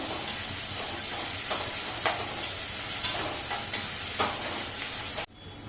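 Chopped onion sautéing with a little salt over a high flame for methi matar malai, a steady close sizzle and hiss broken by soft periodic stirring scrapes, ending in a brief clatter.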